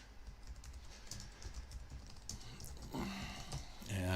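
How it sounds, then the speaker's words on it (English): Fast typing on a computer keyboard, a steady run of light, close clicking keystrokes under faint background sounds. "I'll type one in real quick."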